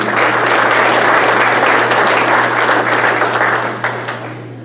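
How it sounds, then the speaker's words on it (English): Sustained audience applause fills the room at a high school baseball dugout club awards ceremony, loud and steady, then tapering slightly near the end. "Let's give him another round of applause, people."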